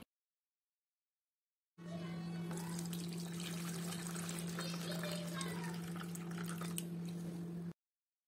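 Water sloshing and trickling steadily as shredded raw potatoes are rinsed in a bowl, with a low hum running underneath.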